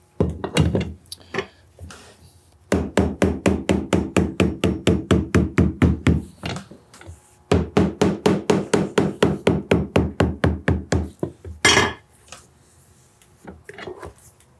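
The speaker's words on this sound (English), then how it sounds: "I'm going to go ahead and lightly tap it with a hammer." A hammer taps the outsole of a handmade bespoke cowboy boot fitted with wooden pegs, delivering two long runs of rapid, evenly spaced sharp knocks, close and loud, with a few isolated strikes before and after.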